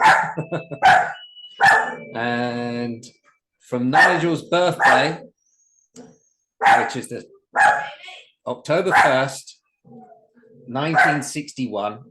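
A dog barks and whimpers indoors, with short sharp barks and yips scattered between stretches of speech, close and fairly loud, partly overlapping the talking.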